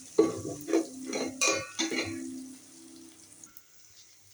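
Chilli powder is sautéed in a pan for fish curry, with several quick scraping stirs of a spatula in a steady rhythm, then a faint, fading sizzle.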